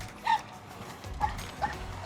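Dog on a neighborhood training walk letting out several short, high yips and whines, spaced apart at moderate distance, with faint outdoor background noise and no talk.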